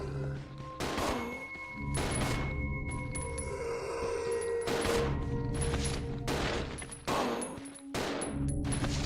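Rapid bursts of gunfire from the Resident Evil Zero video game, loud repeated volleys of shots with booming impacts, steady throughout with brief pauses between bursts.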